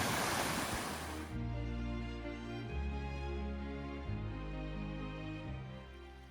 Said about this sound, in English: Here's the top of the Sibian Falls. This is obviously all the water which is flowing into it.